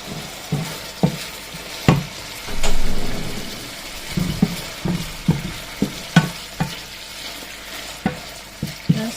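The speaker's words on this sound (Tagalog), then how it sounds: "Unahin ko lang piprito muna" Unpeeled zucchini fries in a pan with a steady sizzle, punctuated by repeated spatula stirs and scrapes at close range.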